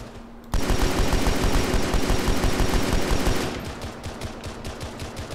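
Rapid rifle gunfire in the military shooter Arma 3, a loud sustained burst of automatic shots lasting about three seconds, followed by sparser, quieter single shots and distant firing.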